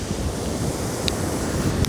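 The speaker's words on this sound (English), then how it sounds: "Get some nice ocean waves while you consider this." Steady ocean waves wash continuously at an even level with a windy hiss, no voices present.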